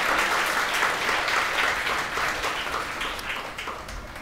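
A church congregation applauds, a dense steady patter of many hands clapping that carries on throughout and tapers slightly at the end.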